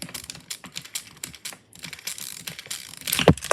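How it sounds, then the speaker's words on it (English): The 1996 Transformers Beast Wars Dinobot toy spins its plastic Velociraptor rotor blades after a button press, giving a fast clicking, ratchety whirr with a short pause midway and a louder rattling burst at the end. Close and fairly loud, with no speech. "it spins around, and so that's his Velociraptor rotor blades"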